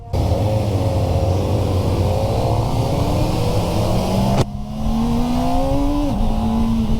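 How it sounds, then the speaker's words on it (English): A Kawasaki ZX4RR sport bike engine revs hard and close. Its loud, sustained whine climbs steadily, dips briefly at a quick shift, then climbs again before easing off near the end. "You gotta rev it out, dude. You gotta be at the top."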